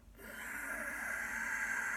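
Ujjayi victorious breath exhale during a yoga and Pilates session: a soft, constricted throat breath rising after a brief pause, a steady hissing, faintly whistling airflow held close and quiet.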